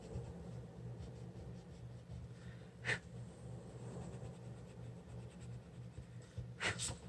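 Wax-based Cadrim colored pencil strokes scratch steadily across paper, a faint continuous rasp in quiet, close surroundings, no talking.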